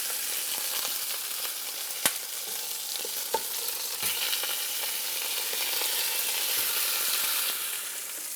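Birria meat sears in a hot pan with a steady, close sizzle, broken by a few sharp clicks and taps as the pieces are turned; no voices.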